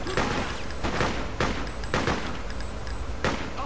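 Rapid gunfire bursts in the video game Freedom Fighters, loud and close, with repeated volleys at roughly half-second intervals and faint voices underneath.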